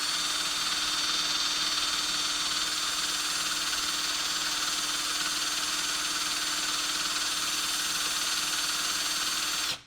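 Spark plugs from a yellow Norton motorcycle firing on a bench test system for spark coils, a steady buzzing crackle held evenly for about ten seconds, close and constant with no talking.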